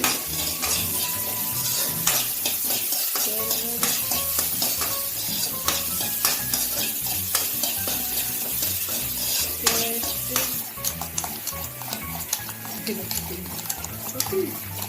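Mustard seeds sizzle and crackle in hot oil in a pan, a loud, steady frying hiss close by, broken by clattering stirring and scraping with a utensil.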